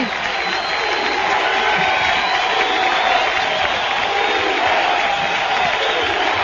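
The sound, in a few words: football stadium crowd cheering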